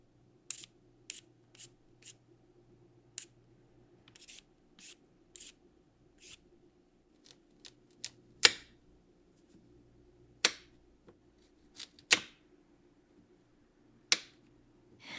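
Carrots being peeled by hand for a carrot loaf cake, a series of short, sharp scraping strokes in an irregular rhythm, close and fairly quiet, with a few louder strokes, no talking.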